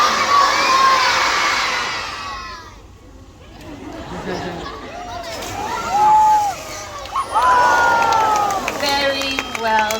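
A large crowd of kids at a seal show at Taronga Zoo screams and cheers loudly, dipping briefly before erupting again even louder in excited shouting.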